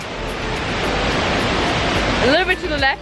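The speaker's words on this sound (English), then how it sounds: "we finally made it to Nung Nung Waterfall!" Nung Nung Waterfall in Bali makes a loud, constant roar of rushing water that fills the scene at close range. Near the end, voices briefly call out over the noise.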